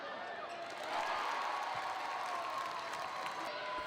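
A packed high school gym crowd roars and cheers at a girls' basketball game, a dense steady wash of voices and applause that swells slightly and holds, heard from across the arena.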